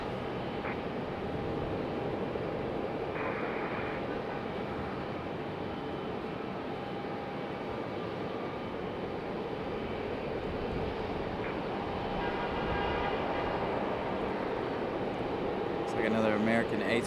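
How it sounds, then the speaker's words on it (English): An American Airlines A321 airliner taxis at Raleigh-Durham International, a low steady jet rumble heard from a distance at a moderate, unchanging level, with faint brief tones and a rise in noise near the end. "Looks like another American A321 on the move."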